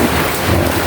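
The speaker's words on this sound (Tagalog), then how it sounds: "Dami na naman ulan o." Heavy rain drums loudly and continuously on a leaking roof in a brief, dense burst of patter.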